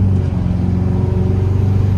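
Ford F250 Platinum pickup with a 2.5-inch dual rate coil leveling kit accelerating, a steady loud low engine drone heard from close by, alone with no voices.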